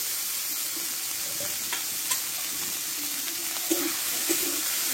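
Potatoes are stir-fried in a ground spice paste for a katla fish curry, giving a soft, steady sizzling hiss with occasional light scrapes and clicks of stirring, quiet and close.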